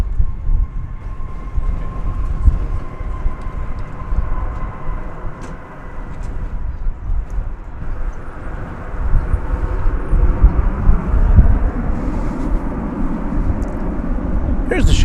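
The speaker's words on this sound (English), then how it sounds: "From San Diego, California comes Flight 2015, an Airbus A321." An Airbus A321 arriving as Flight 2015 from San Diego passes at DFW Airport, its broad engine rumble swelling toward the end, with a voice talking over it.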